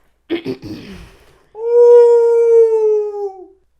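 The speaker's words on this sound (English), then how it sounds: "So they say they hear the wolf's howl." A wolf howls in the film Frankenstein Meets the Wolf Man: a single loud, sustained, tonal howl that slowly falls in pitch and fades out, preceded by a few short rough bursts.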